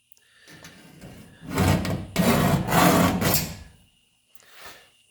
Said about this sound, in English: So I'm just going to scribe this now.